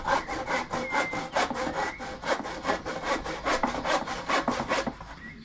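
A handsaw cuts through a shed board, trimming its edge with steady, rhythmic back-and-forth strokes, close and fairly loud, with no talk.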